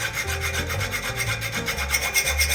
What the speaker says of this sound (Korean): 그라인더로만 하면 면이 굉장히 거칠거칠하기 때문에 이 줄을 가지고 다듬어 주도록 하겠습니다.